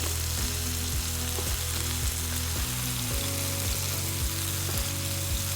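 Beef pieces frying in hot, violently spitting oil, a loud dense continuous sizzle with steady crackle and no talk.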